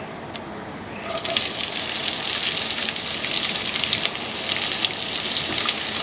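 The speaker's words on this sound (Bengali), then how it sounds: "পেঁয়াজগুলো আমি খুব ভালো করে ভেজে নেব।" Chopped onions hit hot oil seasoned with panch phoron in a pan, and a loud, steady broadband sizzle starts at once and carries on close and unbroken, with no one talking.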